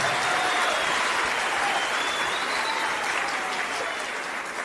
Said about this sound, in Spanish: Aplauso para la iglesia de Cristo, la esposa de Cristo.